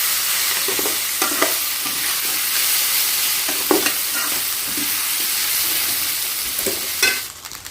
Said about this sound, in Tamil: சரி, ஃப்ரைட் ரைஸ் செய்ய ஸ்டார்ட் பண்ணிடலாமா?